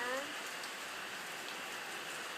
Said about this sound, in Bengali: বাইরে বৃষ্টি হচ্ছে